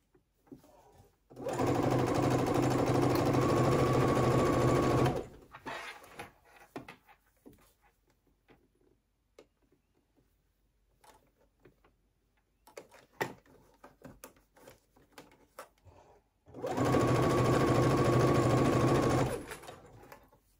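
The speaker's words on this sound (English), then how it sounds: "I'm literally just sewing in that little crease. Stretching the binding, not the bodice." Two long steady bursts of a sewing machine attaching binding to a tank dress, each lasting several seconds, separated by a quiet stretch of small clicks and handling noises.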